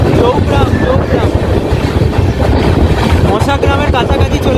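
Kolkata–Balurghat Tebhaga Express running at speed on an LHB rake, a loud continuous rumble of wheels on track with rhythmic clatter throughout.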